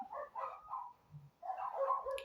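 Several small dogs yip and bark in short bursts, fairly faint and a little distant.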